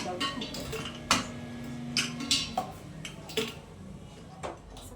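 Metal pots clink and clatter against each other in several sharp knocks as they are placed into a pressure cooker, close by, with faint kitchen noise between them.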